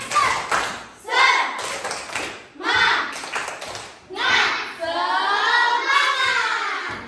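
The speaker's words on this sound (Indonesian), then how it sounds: "tepuk semangat" Schoolchildren in an Indonesian classroom perform a rhythmic spirit clap, bursts of quick group clapping in a patterned beat mixed with chanting voices, ending in a sustained shout.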